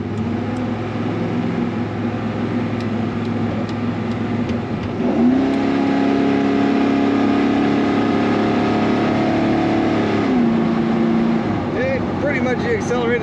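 A 1981 GMC C1500 street rod truck's engine runs steadily, then revs up into a rising, sustained acceleration before easing back, loud and close throughout with a constant low rumble and some background chatter.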